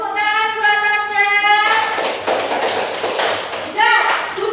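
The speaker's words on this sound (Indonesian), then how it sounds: "Tepuk tangan buat Anda." Classroom applause for a student during an Indonesian-language practical exam: a short burst of clapping after a voice finishes talking, fairly close, with children's voices and a teacher's voice around it.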